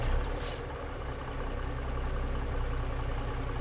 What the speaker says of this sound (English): These are like the loud diesel trucks,